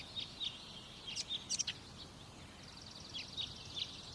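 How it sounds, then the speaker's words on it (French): Birds sing in a spring garden, several quick chirps and tweets in scattered bursts, fairly faint and distant over a quiet background. "Peut-être pouvez-vous entendre des oiseaux."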